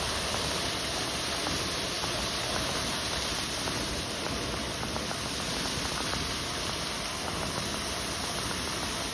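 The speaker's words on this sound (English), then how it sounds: "We have a waterfall, artistry." Steady, dense rushing of a waterfall at a resort in Playa del Carmen fills the scene evenly, a constant broadband roar with no talking.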